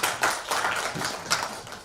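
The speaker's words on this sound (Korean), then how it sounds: "박수로." Audience applause at a political party founding committee meeting, a short burst of many hands clapping together in a dense, steady patter of moderate loudness.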